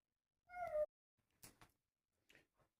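A cat gives one clear, fairly close meow, followed by a few faint soft knocks and shuffles in a quiet room.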